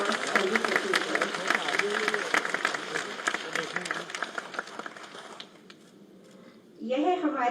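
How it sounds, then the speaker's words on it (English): Applause for a chief guest, D.Y. Chandrachud, at a ceremony in Prayagraj rises as dense clapping from a large audience, thins out toward the end, then gives way to a voice starting to speak. "Please give a big round of applause on this occasion."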